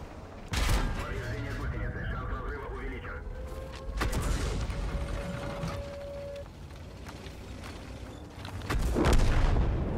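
Tank cannon fire in World of Tanks, with heavy booms and mechanical clanks over a constant rumbling battle bed; one strong shot lands early, another near the middle, and a louder blast comes near the end, with someone talking across much of it.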